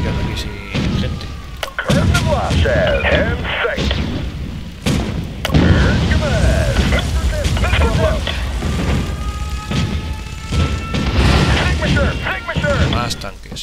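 Repeated booming cannon shots and explosions from the game Spore in its industrial phase, with tanks, rumbling through continuous dense action noise, with someone talking over much of it.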